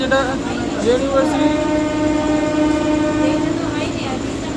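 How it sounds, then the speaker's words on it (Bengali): A Sonarpur–Sealdah local train arriving at Jadavpur station makes a steady rolling rumble with a strong sustained tone, brake squeals and whistle-like notes, while voices talk faintly in the background. "ট্রেন এখন আমাদের চলে এসছে যাদবপুর স্টেশনের"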